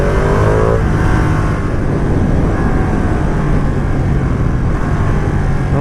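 A 2020 Ducati Panigale V2 roars continuously while being ridden, a loud, close engine drone with rushing wind, briefly pitching up early on and holding steady throughout.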